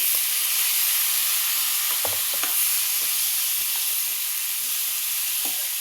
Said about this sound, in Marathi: आता ह्याला छान आपल्याला परतून घ्यायचं आहे